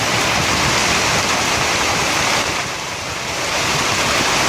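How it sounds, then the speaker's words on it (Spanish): Heavy rain pours steadily in Siloé on a January afternoon with lightning about, a dense, constant broadband wash with no pauses that eases slightly for a moment near the end and then swells back. "Y fuerte lluvia cae acá este martes"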